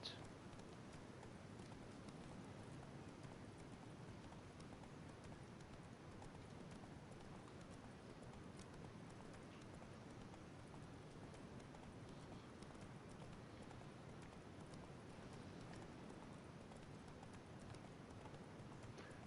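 A horse gallops in The Witcher 3 video game, its hooves drumming in a continuous, even clip-clop rhythm that stays faint and steady throughout.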